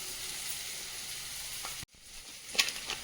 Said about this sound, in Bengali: ভাজা হয়ে গেলে এবার কুঁদরিটাও ভেজে নিতে হবে।